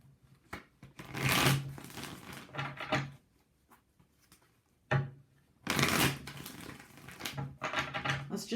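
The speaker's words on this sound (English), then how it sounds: "Let's just take out 3 cards here for each Oracle card." Oracle cards are shuffled by hand close up in several quick riffling, slipping bursts separated by short pauses.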